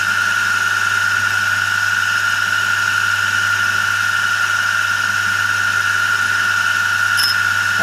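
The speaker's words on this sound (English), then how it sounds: "There's one flute being ground." A countersink flute being ground on a rigid grinding setup gives a steady, loud high-pitched whine over a constant low machine hum, unbroken throughout with a brief extra squeal near the end.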